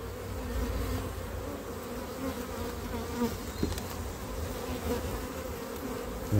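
A honeybee colony hums steadily during a hive inspection, a close, continuous buzz of many bees with a few louder passes near the microphone.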